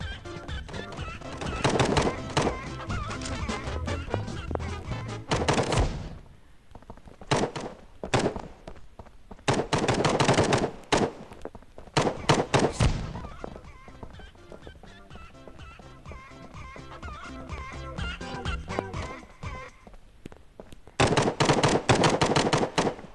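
Gunfire in the online shooter game Hide Online, heard as rapid bursts and scattered shots with quieter gaps between them, mixed with game sound effects and background music.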